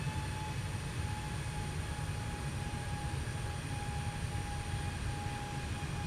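An airplane on its takeoff roll, a flight from Victoria, Seychelles, with a steady, loud engine roar and whine that fills the cabin without letup and no talking.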